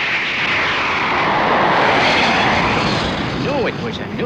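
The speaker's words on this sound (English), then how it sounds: "What a plane!" A propeller plane roars past nearby over the desert, engine noise swelling to a loud peak and then fading slightly, with a voice briefly calling out near the end.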